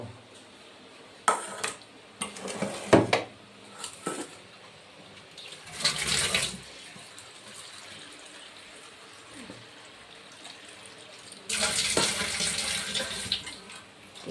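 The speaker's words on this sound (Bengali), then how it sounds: "চিড়েটা ধুয়ে নিই বন্ধুরা চিড়ে ধুয়ে নিয়েছি" Flattened rice (chira) is rinsed in water, giving several separate bursts of splashing and pouring with quiet gaps between them, heard close up and without talk.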